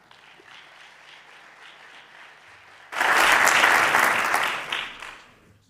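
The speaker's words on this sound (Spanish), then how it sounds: "Un aplauso, por favor." Audience applause at an agronomy conference session on vineyard climate adaptation, starting with a low murmur, then breaking into loud, dense clapping that swells for a few seconds and fades out.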